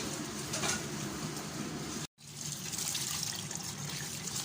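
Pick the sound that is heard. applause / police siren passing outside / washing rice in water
washing rice in water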